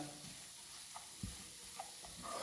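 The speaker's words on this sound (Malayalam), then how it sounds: "എല്ലാം കൂടി ഒന്ന് മിക്സ് ചെയ്യാം കേട്ടോ" Potato masala with chicken masala and pepper fries quietly in a pan as a spoon stirs it, giving a faint sizzle with a few soft scraping knocks and no voices.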